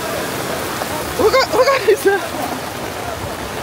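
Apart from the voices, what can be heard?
heavy rain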